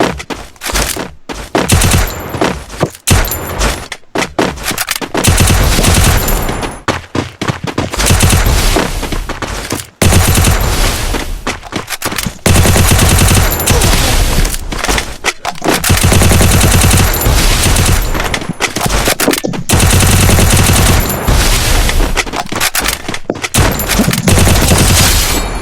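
AWM sniper rifle fire sounds in a 1v1 custom shooter game match, part of a loud, dense barrage of gunfire that runs almost nonstop with only brief gaps.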